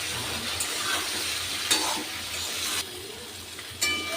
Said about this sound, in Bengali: এবার সব মশলাগুলো আমি আলু আর কাঁকরোলের সাথে ভালো করে কষিয়ে নেব।